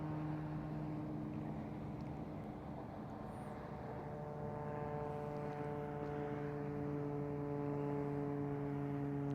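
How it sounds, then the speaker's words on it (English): An airplane drones overhead, unseen, near Lake Guntersville, a long steady engine hum with layered tones that grows slightly louder toward the end, with no talk. "when you can hear a plane but you can't see it"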